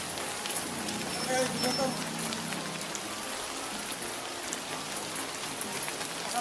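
Heavy rain pours steadily on a surface in the Philippines, a dense continuous hiss with a voice calling out briefly over it near the start.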